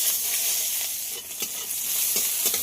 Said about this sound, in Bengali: এবার এতে দিয়ে দেবো একটা বড় সাইজের পেঁয়াজ কুচি।